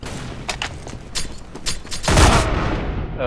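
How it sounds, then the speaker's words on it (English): Grenade blast in Counter-Strike GO, following a run of sharp gunshot cracks: a loud, broad explosion bursts in and rumbles on, close and heavy, with more shots around it. "Oh, they grenaded me."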